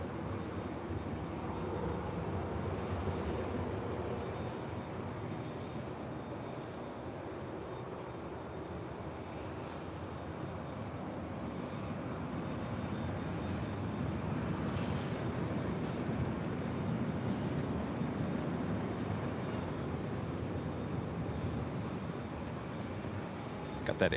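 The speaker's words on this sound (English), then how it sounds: "Got that Air China 777-300ER flying right over our head." Air China Boeing 777-300ER airliner passing overhead at LAX, a steady broad jet roar held at even loudness throughout with faint clicks on top, no one talking.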